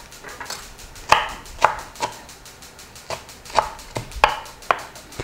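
A knife chops onion on a cutting board while meat cooks nearby, with about eight distinct, unevenly spaced sharp strikes heard close and clear.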